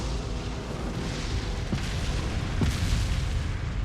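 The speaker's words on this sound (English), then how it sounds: "One of them just hits close to home" Cannon shots landing in the video game Resident Evil 4, two muffled booming impacts rising out of a continuous heavy rumble, the second louder and closer than the first.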